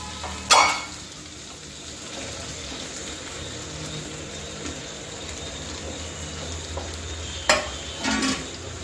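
Okra goes into a frying pan of potatoes with chillies: a sharp crackle as it lands, then a low steady sizzle, and a second burst of clatter and sizzle near the end.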